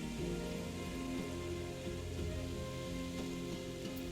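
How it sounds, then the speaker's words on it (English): Steady rain patters across a surface in a video game, a dense continuous wash holding at a constant level with musical tones running underneath and no speech. "especially in the rain."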